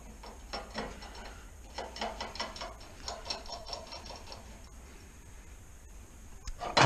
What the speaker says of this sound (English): And wind the nut onto the other side.